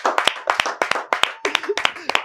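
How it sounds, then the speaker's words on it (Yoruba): Studio audience on a Yoruba game show claps for a guest, a steady run of sharp, close hand claps in quick bursts with a few voices mixed in. "ẹ jẹ́ á pàtẹ́wọ́ fún un"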